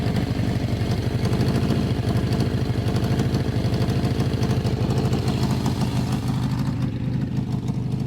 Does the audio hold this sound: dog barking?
no